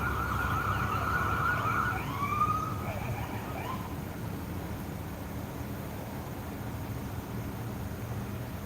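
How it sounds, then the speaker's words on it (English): An ambulance siren wails and sweeps briefly on a busy city throughway in North Bergen, New Jersey, loud at first then cutting off, leaving steady traffic rumble. "We got an ambulance coming."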